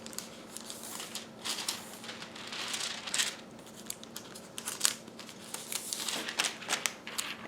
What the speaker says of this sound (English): So the next thing to do is to grab our foil. Now today I'm going to be using the gold.